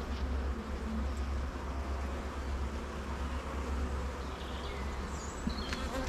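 Honeybees buzz steadily around a hive while a beekeeper inspects the year's swarms outdoors on a fine day, a dense continuous hum with scattered individual bees passing close.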